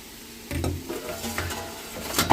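Mixed vegetables for chowmein, seasoned with salt, turmeric and chilli powder, fry in a pan and are stirred with a few scraping strokes, giving a close crackling sizzle in short bursts.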